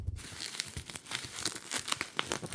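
Crinkly plastic package being pulled open with one hand, a close, continuous rustling and crackling with small sharp snaps throughout.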